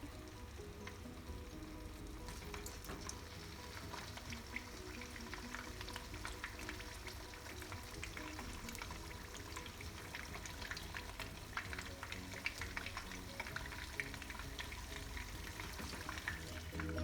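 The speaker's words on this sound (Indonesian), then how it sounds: "Kemudian goreng ayam sampai warnanya coklat." Chicken frying in cooking oil in a wok, a steady crackling sizzle with scattered sharp pops, close and quiet, continuing evenly throughout with no talking.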